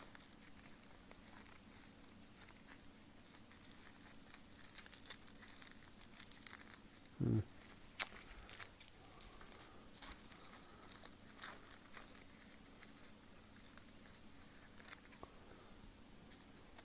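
Dried snake skin sheds being crunched and crumpled by hand, a steady papery crackling patter running throughout with one sharper crinkle burst midway, close and fairly quiet.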